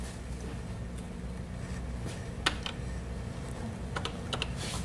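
Keys clicking on a Color Computer keyboard, a few separate taps and short quick bursts over a steady low hum, fairly faint and with no voices.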